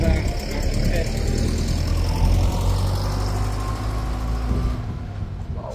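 A tractor engine rumbles steadily and loudly, then begins to fade as it pulls away, with voices talking over the noise.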